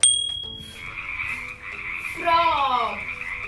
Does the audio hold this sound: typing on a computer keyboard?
no